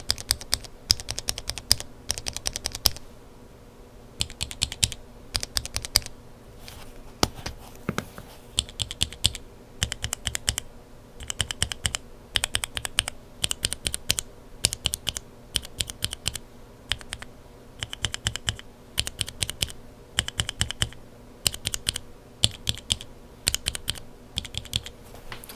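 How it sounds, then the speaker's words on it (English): Clicky bursts of typing rattle from a mechanical keyboard with Kailh Burgundy switches in milky housings, irregular and close, with short pauses between runs of keystrokes. "I don't really like how the milky housing sounds."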